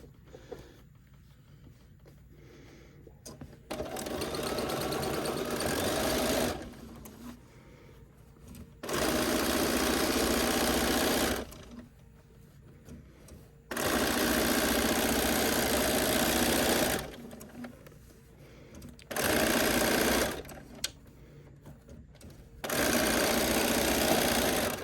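A sewing machine stitches along a seam on a quilted sailboat tote bag, its steady mechanical whir running in several loud, evenly sustained bursts separated by short pauses.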